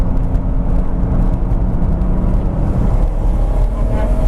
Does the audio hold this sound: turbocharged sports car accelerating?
yes